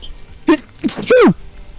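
One person sneezes close up, a sharp sudden burst with a short breath drawn in before it, heard alone in an otherwise quiet moment.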